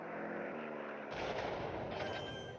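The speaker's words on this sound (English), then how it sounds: "Kind of sick of dealing with their heavy" Heavy aircraft attack in the strategy game World Conqueror 3, a steady loud roar of engines and rumbling explosions that thickens partway through, with no talk.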